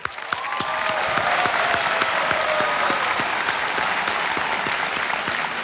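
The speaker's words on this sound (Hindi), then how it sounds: "जरा जोरदार तालियां बज जाए इनके लिए।" A studio audience bursts into strong applause on a TV quiz show set after a contestant wins 25 lakh rupees, swelling quickly into sustained, even clapping with a few sharp individual claps standing out.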